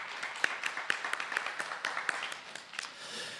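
A forum audience at a Korean gender-equality event gives a light, scattered round of hand claps to welcome a speaker. Individual claps stand out distinctly, moderately distant, without a full roar.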